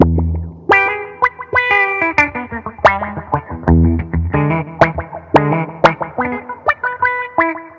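Electric guitar played through a MUTON envelope filter pedal on a touring pedalboard, loud, close plucked notes and chords with a responsive filtered, quacking sweep on each attack, phrased in rhythmic bursts with no talking.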